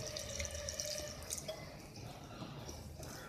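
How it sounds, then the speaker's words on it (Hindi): Water trickles and splashes as it is poured into a thick batter of flour and yogurt in a home kitchen, a soft continuous pour with small drips and no talk. "इसमें हम पानी मिला देंगे"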